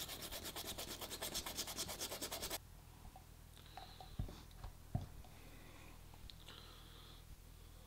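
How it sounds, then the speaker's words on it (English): A homemade post-apocalyptic gas mask is sanded by hand in a few seconds of quiet, rhythmic rubbing strokes, followed by faint handling taps and scrapes. "So we might need to sand that down just a tad."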